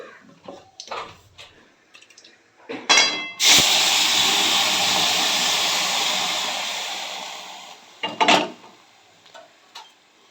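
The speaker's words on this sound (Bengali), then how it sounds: "তরকারিটাকে দিয়ে দিয়েছি কড়াইয়ের মধ্যে।" Vegetable curry drops into hot oil in a wok and bursts into a loud, steady sizzle that swells and slowly fades over several seconds. Clinks and stirring knocks come before it and after it.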